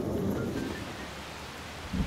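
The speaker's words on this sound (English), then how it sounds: "It's raining too." Steady rain hisses over a low rumbling of thunder inside the Persona 5 video game, a continuous stormy wash with the rumble swelling at the start and again near the end, no voices.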